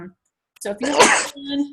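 A single sharp human sneeze bursts out right after a short spoken phrase during a workout talk, loud and close, followed by a brief trailing sound.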